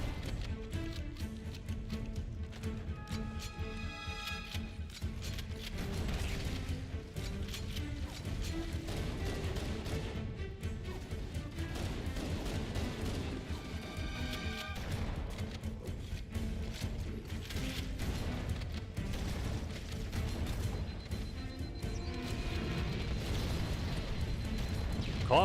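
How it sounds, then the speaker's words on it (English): Video game explosions, a dense run of crashing, rumbling blasts and mechanical clanks layered over game music, continuous and fairly loud with repeated impacts and no clear pauses. "Calm down with the explosions."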